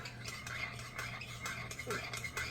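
A spoon scrapes and swirls steadily around a pan, stirring broth until it dissolves into chopped meat, close and continuous with light clinks against the metal.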